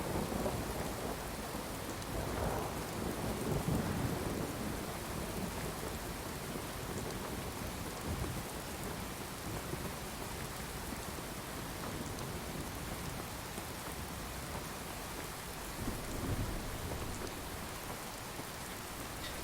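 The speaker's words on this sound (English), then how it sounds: "This rain, the sound of this rain is rather intense." Dense, steady downpour of heavy rain with low rolling thunder swelling now and then in the video game Fallout 4, continuous and fairly close, with no voices.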